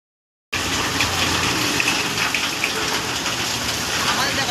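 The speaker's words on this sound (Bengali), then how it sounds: "তো এদিকে দেখো ভীষণ জোরে জোরে বৃষ্টি পড়ছে।" Heavy rain pours down in a loud, steady, dense roar that continues without a break after a moment of silence at the start.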